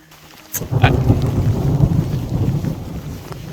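Thunder rolls through a mountain storm in Banff, a sudden crack followed by a loud, sustained low rumble lasting several seconds with no voices.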